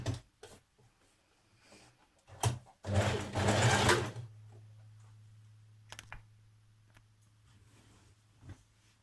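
A sewing machine stitching a sweatshirt side seam: a short loud whirring run of about a second, surrounded by quiet handling clicks and a low steady hum.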